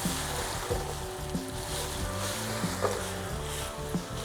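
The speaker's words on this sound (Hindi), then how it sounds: "इसको उसमें डाल के ज़रा भूनना है" Minced meat (keema) sizzling and frying steadily in a pan for a Pakistani recipe, a continuous close hiss with occasional stirring clinks and knocks, no talking.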